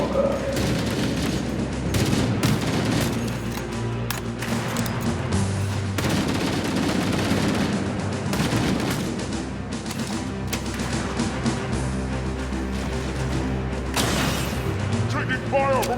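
Dense battlefield gunfire from the Halo campaign rattles on continuously with rapid automatic bursts and heavy booms, loud and close. Game dialogue and voices sound over it.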